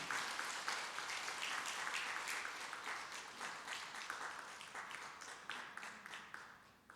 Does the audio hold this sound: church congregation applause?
yes